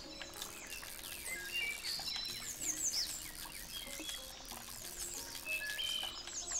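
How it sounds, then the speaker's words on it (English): Many birds chirp and tweet in a dense, continuous chorus in the video game Spirittea, with sharp high calls overlapping against a steady background hiss. "Birds up here are loud as heck."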